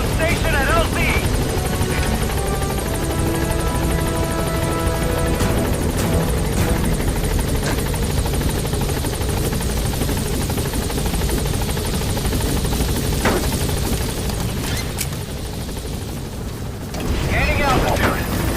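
The B-Quad helicopter in Metal Gear Solid V arrives at a landing zone, its loud rotor roar and whine steady throughout while a voice speaks over it.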